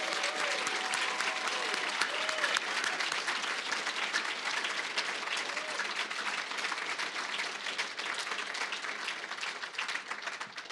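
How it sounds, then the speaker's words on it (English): A banquet hall audience at a college honors banquet claps warmly and continuously for honorees, a dense, even applause that holds for several seconds with faint voices beneath. "Please join me in recognizing their academic excellence with your applause"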